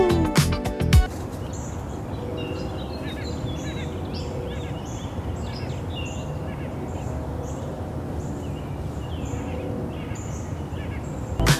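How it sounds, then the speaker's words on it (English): Birds chirp and tweet in the distance over a low outdoor rumble, with a short clatter at the very start. "I'm listening to all the birds chirpity chirpity."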